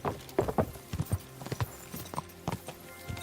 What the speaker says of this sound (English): Oh, our old good horse.